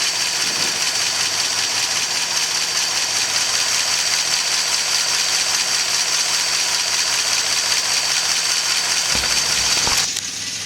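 A rescued old Studebaker engine idles steadily just after its first start, with ignition timing a little late and oil in the cylinders. The even, close running continues for about ten seconds before a brief change at the end.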